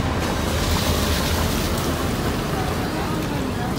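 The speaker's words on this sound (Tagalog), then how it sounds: "ang lakas ng alon ayan mga kalinga" Strong sea waves breaking on a beach during rain, a loud continuous roar of surf and wash filling the whole stretch, close and unbroken.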